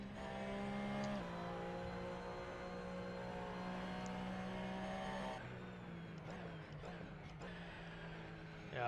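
A race car in the Assetto Corsa driving game holds a loud, steady engine drone that shifts pitch near the end, with a few faint tyre squeals and no talk over it.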